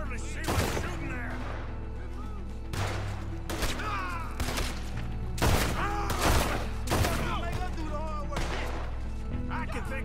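Gunfire in Red Dead Redemption 2: repeated loud volleys of shots and fusillades in sharp bursts through the clip, with game voices and music underneath.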